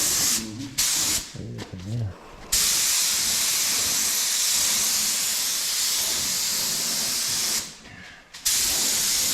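Primer sprays from a spray gun into the engine bay of a 1970 Dodge Challenger as a long, loud, steady hiss, broken by brief pauses near the start and again near the end, with a voice heard in the gaps.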